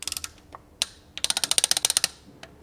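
A ratchet torquing down the camshaft caps on a BMW E46 330i engine: a few scattered clicks, then a quick, even run of about a dozen sharp, close metallic clicks, then one last click.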